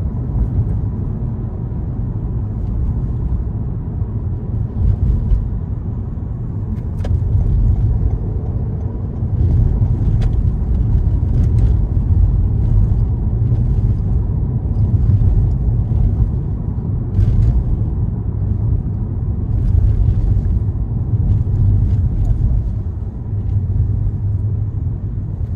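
Steady, loud road rumble of car traffic heard from inside a vehicle driving through New York City, from Astoria, Queens along FDR Drive, a continuous low roar with faint clatter and no talking.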